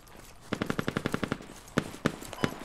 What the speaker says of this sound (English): Taking shots from west.